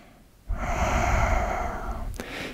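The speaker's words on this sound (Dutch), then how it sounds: "1 volledige ademhaling hier" A single full breath is taken during a yoga exercise, a close, audible inhale that continues for about two seconds before a sharp snort-like catch at the end.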